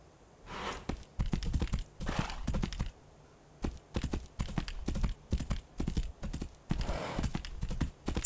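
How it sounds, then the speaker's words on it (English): Rhythmic clip-clop of horse hooves in repeated bursts with brief pauses, crisp and close, from the video game Tainted Grail: Fall of Avalon. "Here's a horse."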